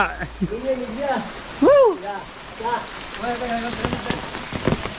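Steady rain patters on a surface throughout on a forest road in rural Konkan, with a person speaking intermittently over it.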